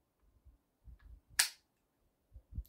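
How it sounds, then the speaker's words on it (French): The spring of an Umarex T4E HDP 50 pistol, an 11-joule gun, snaps shut with a single sharp click, close and crisp, among faint soft handling thumps and no talking. "vous n'avez plus qu'à rabattre le ressort."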